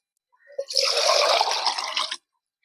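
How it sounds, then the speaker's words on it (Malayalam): Water poured into a fermented plant fertilizer mixture, a steady splashing pour lasting about a second and a half, close and fairly loud, with no talk over it. "ഇതിലോട്ട് അഞ്ചിരട്ടി വെള്ളം നമ്മൾ ചേർക്കണം"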